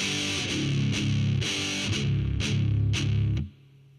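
A distorted heavy metal electric guitar plays a slow riff of sustained chords broken by tight palm-muted chunks on the low strings, loud and gritty, ending abruptly.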